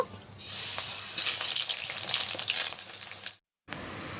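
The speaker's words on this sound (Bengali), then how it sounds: "বেগুনগুলোকে ভেজে নেব" Eggplant frying in mustard oil in a wok: a close, crackling sizzle that swells and stays busy, then cuts out abruptly for a moment before resuming faintly.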